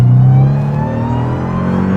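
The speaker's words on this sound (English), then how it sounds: "God, you just gotta love that supercharger whine" A supercharged Dodge Durango of about 702 horsepower and roughly 5,000 pounds revs hard with a steady deep engine roar and a high supercharger whine running over it, loud and close throughout.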